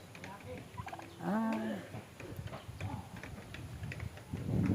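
A turkey gobbles once in a warbling burst, close by, among soft voices and footsteps in an outdoor yard.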